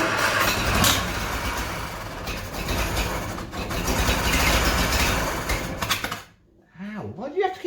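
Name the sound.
Bedford CA van engine starting and idling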